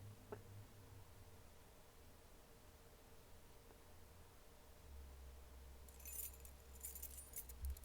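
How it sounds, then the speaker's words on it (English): Keys jingling in the PC game Becoming, a faint metallic jangle in short clusters near the end over a quiet low hum. "Oh, some keys jingling."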